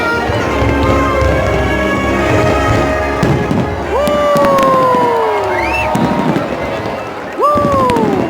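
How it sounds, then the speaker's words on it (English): Eid fireworks in Dubai bursting with sharp cracks and pops amid a loud, cheering outdoor crowd, rising whistling tones sweeping up over the constant chatter and shouting of people nearby. "Fireworks have started."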